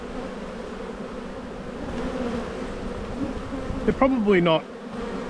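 Honey bees buzz steadily around an open, defensive backyard hive in Australia, a dense close drone, while someone speaks briefly over it near the end.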